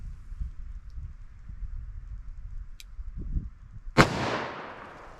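A single sharp, loud gunshot from a .357 Magnum revolver with a 4-inch barrel firing Corbon DPX ammunition cracks outdoors. It follows a low rumbling background and decays with a brief ringing tail.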